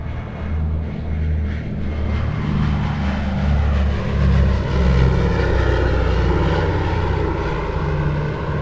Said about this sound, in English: Round engines just sound and smell better than jets.